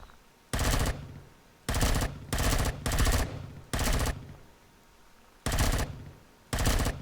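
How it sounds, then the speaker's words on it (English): An assault rifle in Empyrion Galactic Survival fires about seven separate short bursts of rapid shots, each loud and close, with quiet gaps of roughly half a second to a second between them and no talking. "Assault rifle time."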